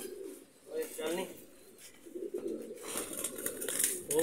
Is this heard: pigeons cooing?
yes